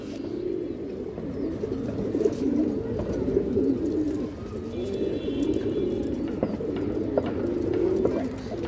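A flock of old-bloodline flying pigeons coos steadily and continuously nearby, forming a dense, rolling, low murmur over constant background noise.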